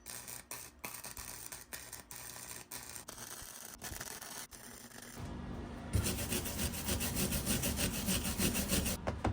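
A metal piece is cut out by hand for a homemade hitch carrier for a Lectric Xpedition e-bike. Steady, close rasping sawing strokes grow louder and denser in the second half, with no talking.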